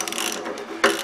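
A ratchet with a swivel socket tightens a shifter bracket bolt on a 2016 Mustang, giving a quick burst of close, crisp clicking followed by a sharper final click.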